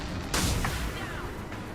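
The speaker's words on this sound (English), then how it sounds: "He's shooting me through the wall." Gunfire in a video game as an enemy shoots through a wall: one sharp, loud burst followed by a short decaying roar and a couple of fainter pops amid steady game background noise.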